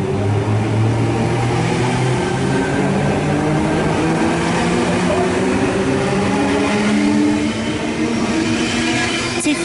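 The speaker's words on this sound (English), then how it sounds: "T30 and its friend is now departing platform number 2" Sydney T30 electric passenger train pulling out of platform 2 at Wahroonga station, a loud continuous rumble and rising motor whine filling the whole stretch as it gathers speed, close by.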